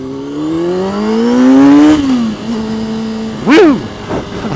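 Motorcycle accelerating on a cold-weather ride, loud and close, its engine pitch climbing through a gear, then dropping, followed by a sharp rev spike near the end, with no voices.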